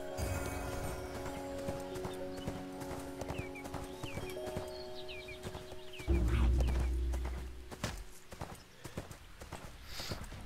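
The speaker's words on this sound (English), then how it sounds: "come on, horsey," A horse gallops in the video game ArcheAge, with steady rhythmic clip-clop hoofbeats and a whinny, all heard over game music and ambient sound.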